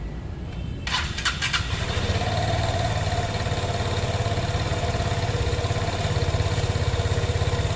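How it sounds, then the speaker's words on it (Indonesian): A Vespa Sprintmatic scooter engine cranks with a few quick bursts, catches and settles into a steady, close idle that runs evenly without letup. "sekarang di sini saya bakalan mencoba menyalakan mesin dari Vespa Sprintmatic ini"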